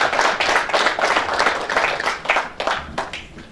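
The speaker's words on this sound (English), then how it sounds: "that clap, I believe, is for me" An audience at a diaspora political gathering in New Jersey claps in a lively, uneven burst of many hands, close and fairly loud, thinning and picking up in waves over a few seconds.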